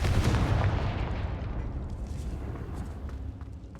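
The Confringo fire spell blasts in the Hogwarts Legacy video game with a single loud, deep boom that rumbles and slowly fades away over several seconds.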